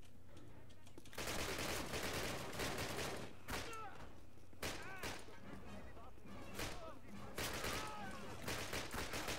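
Sten submachine gun bursts in the first Call of Duty game, repeated loud rapid volleys in several runs with short pauses between them.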